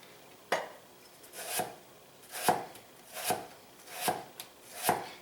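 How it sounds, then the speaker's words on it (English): A kitchen knife rocks down through potatoes on a board in six evenly spaced, crisp chopping strokes, close and clear with no talking. "So I'm just rocking my knife. If you ever cut potatoes, you'd be like, wow, that's amazing."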